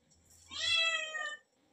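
A cat near an outdoor wood-fire stove where chicken is cooking gives a single clear, drawn-out meow close to the microphone, alone in a quiet background.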